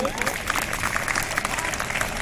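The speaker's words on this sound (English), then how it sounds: "Let us clap for those who have answered." Students and teachers at a school assembly quiz on the Sikh gurus clap for the participants who answered, a steady, moderately loud burst of crowd applause throughout.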